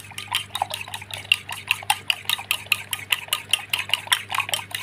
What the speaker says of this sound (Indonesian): kita campur ke dalam telurnya lalu kita kocok lepas ya